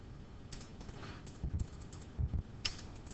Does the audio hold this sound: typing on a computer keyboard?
yes